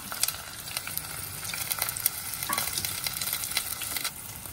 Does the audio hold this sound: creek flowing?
no